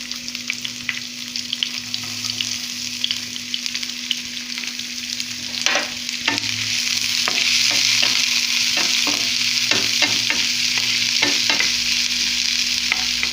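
Onion sizzling and frying in a pan while a Telugu home cook makes paneer bhurji, with steady close crackle, a constant hum, and repeated sharp scrapes and stirring clicks of a spatula through the middle and end.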